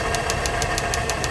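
A Honda S2000 engine at idle with a fresh OEM short block, a slight rhythmic tapping ticking steadily and evenly over the running engine, close and fairly loud.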